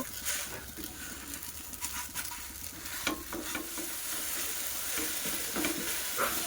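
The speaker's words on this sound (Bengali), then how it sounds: "সাবুদানার সাথে খুব ভালোভাবে চিনিটা মিশিয়ে নেব।" Cooked sabudana being stirred with sugar in a pan over a slow-to-medium gas flame: continuous scraping and stirring with a faint sizzle, steady and close, no voices.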